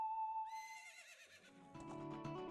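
Epona the horse whinnies in the video game Zelda: Ocarina of Time, a single loud, wavering neigh over a steady tone, followed by snorting and faint clip-clop.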